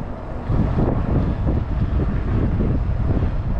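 Strong storm wind, around 40 to 50 miles an hour, buffets the microphone of someone riding a Segway, a loud continuous rumbling roar with gusty surges lasting throughout.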